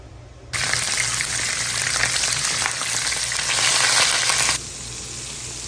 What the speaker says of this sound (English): we'll add some ginger and garlic paste to some oil and cook it